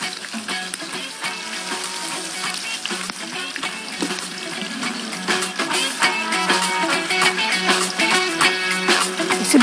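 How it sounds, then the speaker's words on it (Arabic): Chicken broth is poured into a cooking pot over several seconds, giving a steady, close liquid splashing and sizzling sound with clatter against the pot and no talking. "هنحط هنا حبه شوربه، عندي شوربه الفرخه اهي"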